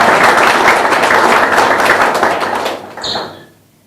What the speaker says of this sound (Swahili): Kwa hiyo tujipigie makofi na tujipongeze kwa kazi nzuri tunafanya